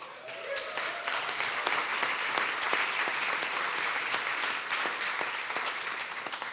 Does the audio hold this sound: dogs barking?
no